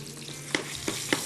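Meatballs sizzle in hot oil in a pan, a steady close frying hiss broken by three sharp spatter pops.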